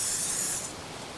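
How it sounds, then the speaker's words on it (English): A short hiss of cooking spray goes into a frying pan on a stove over medium heat while a breakfast wrap is made, a soft, close burst that fades after about half a second. "I do need to add a little bit of a cooking spray"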